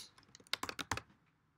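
A brief burst of typing on a computer keyboard, about a dozen quick, light key clicks in an uneven rhythm, close and fairly quiet with no talking.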